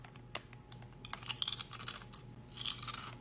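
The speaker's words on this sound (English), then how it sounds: "Want to hear the crunch? It's a good one from what I can remember." A crunchy pre-lunch snack bitten and chewed at an all-inclusive resort in Mexico, with several sharp, close crunches in irregular bursts over quiet background, no talking.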